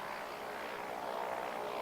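A weekly mail plane, a propeller-driven aircraft serving a remote outback station, drones steadily overhead with a continuous buzzing engine hum, moderately loud and unchanging, heard alone without talk.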